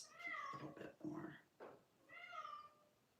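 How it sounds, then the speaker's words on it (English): A pet cat carrying a toy in its mouth gives a few muffled, drawn-out meows in a quiet indoor room, with soft noises in between and no one talking. "Can you hear my cat?"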